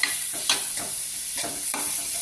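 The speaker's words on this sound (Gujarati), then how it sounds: "એમાં વઘાર નાખી દીધો" Tempering of hot oil and spices poured into fresh coconut chutney in a village kitchen, with a steady high sizzle and a few scraping stirs over a quiet background.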